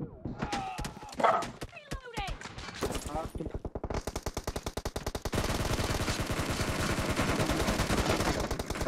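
Rapid bursts of automatic gunfire from the game PUBG, rattling in fast repeated volleys after a brief stretch of talking and sound effects.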